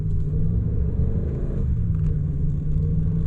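A Ram truck sliding sideways with traction control switched off gives a loud, continuous low engine rumble with a slight rise and fall in tone, close up and steady throughout, with no talking.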